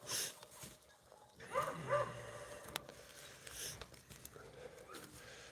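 Beagle pups hunting a rabbit in a running pen: faint, distant yips and short barks in a few scattered bursts over quiet outdoor background.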